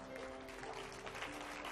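A church congregation applauds softly during a sermon, a faint, continuous patter of many hands under a low steady hum, heard from some distance.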